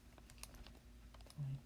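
Numbers are typed into a calculator as a quick run of soft, close key taps, faint and evenly spaced, with no talking.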